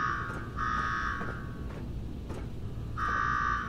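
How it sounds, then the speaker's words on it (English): Electronic alarm from the Fallout 4 video game buzzes in a steady high tone, cutting out briefly and returning in repeated bursts over a low background hum. "Now go shut off that damn alarm"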